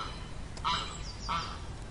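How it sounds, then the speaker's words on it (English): A farm duck quacking, two short honking calls about half a second apart over a steady, noisy background. "Duck."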